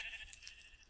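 One sheep in Minecraft gives a single short, faint bleat, a thin wavering call heard alone.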